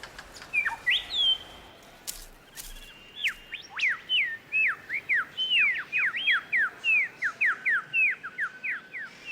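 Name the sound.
superb lyrebird singing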